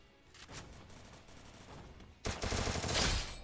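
Gunfire in the Free Fire battle royale game, scattered shots at first, then a loud dense burst of rapid automatic fire over the last second or so.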